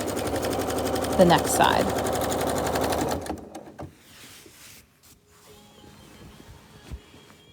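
A sewing machine quilts along the side of a quilt, running loud and close under a speaking voice for about three seconds before stopping, followed by quiet handling sounds.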